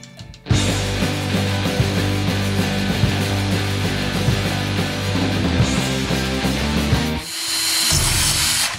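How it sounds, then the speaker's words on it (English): A power drill bores out a broken bolt, lubricated, in a steady loud grinding run that continues for about seven seconds before cutting off, then a brief pause and a second burst of drilling. "lubricant helps whenever you're drilling"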